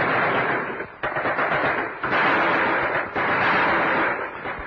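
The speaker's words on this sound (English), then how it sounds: "opened fire in a determined resistance." Heavy, continuous gunfire from police resisting in Ismailia, Egypt, in 1952, loud and dense with overlapping rifle and machine-gun bursts that barely let up, heard on an old wartime newsreel recording without voices.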